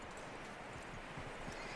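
Horse hooves clip-clopping in Red Dead Redemption 2, a steady low patter of footfalls under a dense wash of game ambience, fairly quiet and continuous throughout.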